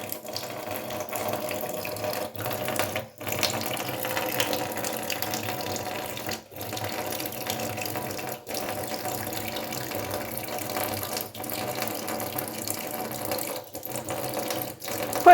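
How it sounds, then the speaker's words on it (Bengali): Water splashing and sloshing as Butter plays in it, a steady close churning wash running the whole time with brief pauses. "বাটার এখন জল নিয়ে খেলা করছে।"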